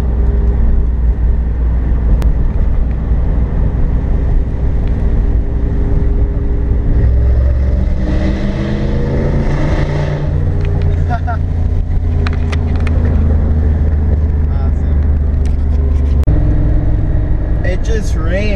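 Steady loud engine and road rumble of a car driving, with a shift in tone partway through as the tires pass onto a bridge.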